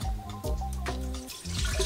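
A cup of water is poured into a container while a vegan sauce is being made, a short close splash and trickle of liquid.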